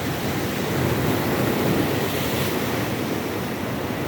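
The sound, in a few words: big sea waves and sea breeze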